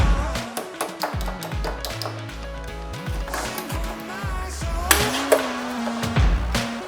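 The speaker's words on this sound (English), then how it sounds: "So let's bend the metal." A metal panel is bent for a rallied BMW, producing a string of sharp, close metallic taps and clanks at an irregular pace, with faint ringing tones between the hits.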